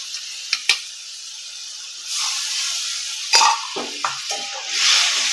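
Spice paste hits hot oil in a frying pan with fish-head, potato, aubergine and lentil dumplings, bursting into a loud hiss that rises twice and fades, with a few sharp clinks of utensils against the pan.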